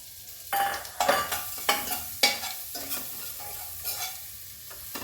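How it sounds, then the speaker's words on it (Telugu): Chopped garlic and ginger frying in butter for a mixed vegetable soup, a spoon stirring through them in repeated scrapes over a steady low sizzle, close and unaccompanied by speech. "వెల్లుల్లి చూడండి, ఇవి ఫస్ట్ బటర్లో మంచిగా ఫ్రై అవ్వాలి"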